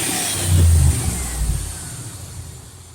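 A Honda car engine, running after new parts were fitted, revs up briefly and then settles to a steady idle rumble, close and fairly loud with no talk.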